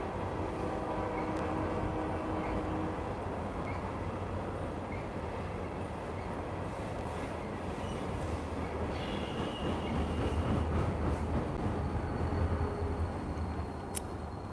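A large train rolls past continuously, a loud steady rumble of rail cars with wheel clatter and faint squeals throughout, no voices over it.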